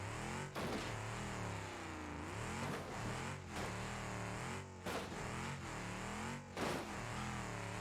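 A truck engine in BeamNG Drive revs hard and continuously, its pitch rising and falling with throttle changes, close and loud throughout, the engine overheating with its water supply knocked off.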